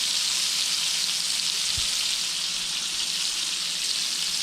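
Venison deer tenderloin frying in a pan of butter and sausage grease, a dense, steady, close sizzle and crackle throughout, with no talk.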